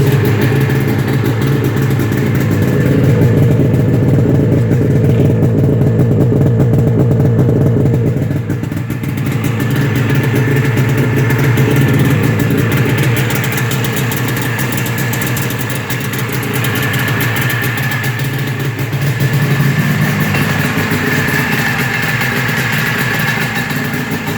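A 1997 Ski-Doo Formula S 380 snowmobile's two-stroke engine idles steadily and loudly, its buzzy, slightly uneven putter running continuously without a break.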